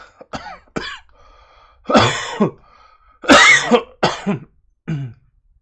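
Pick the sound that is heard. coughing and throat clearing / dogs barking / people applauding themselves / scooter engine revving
coughing and throat clearing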